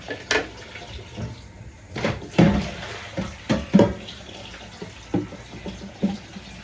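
A pot being washed under a running kitchen tap while cooking okra, spaghetti, rice and beans: a steady stream of water with repeated clanks and knocks of the pot scattered throughout, close by, with no talking.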